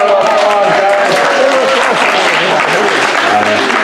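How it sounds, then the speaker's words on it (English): An audience at a zoo show in Sevierville, Tennessee gives a loud, dense round of applause that carries on steadily for about four seconds, close and full. "Give them a round of applause, guys."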